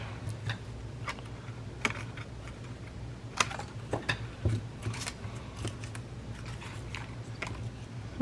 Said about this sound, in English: And go ahead and cut this one while we're at it.